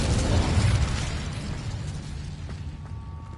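A blast from the Incendio fire spell in Hogwarts Legacy, a loud whooshing burst that fades into a fizzling, crackling tail.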